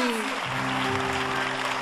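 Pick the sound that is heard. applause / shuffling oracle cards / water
applause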